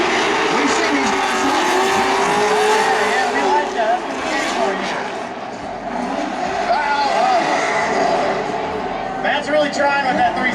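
Two drift cars slide through a corner in tandem at a drifting event, engines screaming at high revs with tire squeal and skidding, loud and sustained, while a commentator talks over the noise.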